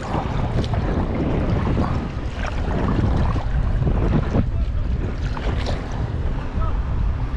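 A motorboat towing a rider across Windermere, its engine drone and churning wake heard as steady broadband rumble mixed with wind buffeting the microphone and splashing water throughout.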